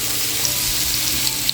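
Onions go into hot oil for paneer butter masala, giving a brief, dense, close sizzle with a few faint crackles and pops over a steady hiss.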